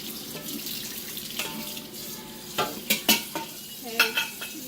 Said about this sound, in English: you're going to want to just rinse all the milk residue off right away